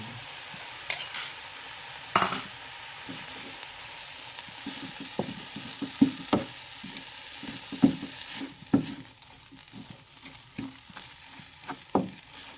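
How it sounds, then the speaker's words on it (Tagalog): Egg frying with sautéed cabbage and tilapia in a pan, a continuous sizzle with repeated spatula stirs and scrapes spaced every second or so, close and moderately loud, with no talking. "Ilalagay na po ang itlog."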